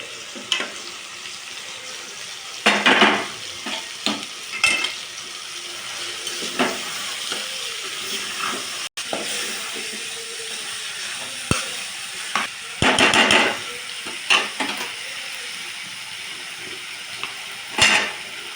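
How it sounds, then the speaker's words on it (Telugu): Parboiled cluster beans cook with tomatoes in a pan, a soft continuous sizzle broken by occasional louder bursts of stirring and scraping, close by. "గోకరకాయ ముందు ఉడకబెట్టుకున్నాం కాబట్టి మంచిగానే టమాటాలో ఒక 2 నిమిషాలు మగ్గితే సరిపోతుంది."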